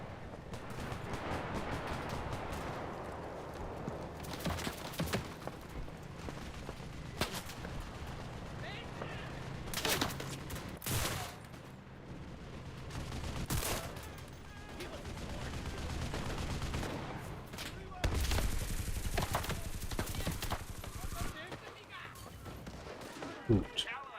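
Mortar strikes land in a co-op video game, with heavy booming impacts and scattered gunfire spread through a long battle mix under intermittent talk.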